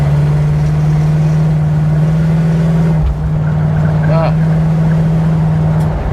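A 1977 Chevy Monte Carlo with a 3.42 rear end drones steadily and loudly as it is driven, a constant low engine hum that barely dips for a moment midway.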